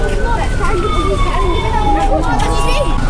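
An ambulance siren wails steadily with a slowly falling tone, loud and close, while voices chatter underneath near a small cardboard fire.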